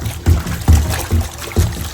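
A drain pump from an LG washing machine is plunged and sloshed around in water, giving four rhythmic, close splashing surges about half a second apart.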